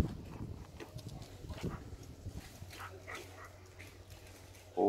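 A Caucasian shepherd dog growls aggressively at children, rough low rumbles coming in bursts over the first half before fading to quieter rustling and movement.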